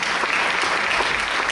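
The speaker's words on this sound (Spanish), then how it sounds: "un gran aplauso para" An audience at a public talk bursts into steady, dense applause, loud and close, filling the whole moment without a break.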